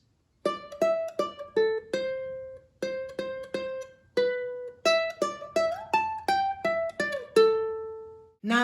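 A ukulele plays a riff with an added lick: clear plucked notes, close and solo, in short rhythmic bursts with brief pauses, ending on a sustained note before a final strum.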